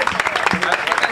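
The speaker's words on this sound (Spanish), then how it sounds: "Un aplauso para los campeones" A crowd claps for the champions at a team presentation for motorsport racing teams in Piera, a brief, loud patter of many hands with a voice speaking over it.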